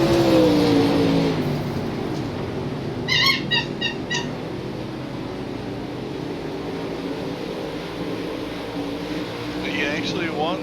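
Modified race cars lap an oval track in a steady, continuous engine roar that fills the whole stretch, with brief talk near the start and a few sharp higher tones partway through.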